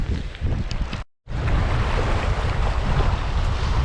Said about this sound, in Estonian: Tuul on selline ühtlaselt vali, rohkem nagu loodest tundub.